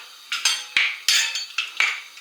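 A metal lid set onto a cooking pot of bean and flat green bean soup, a handful of sharp clinks and rattles in quick succession, close and fairly loud, no voices.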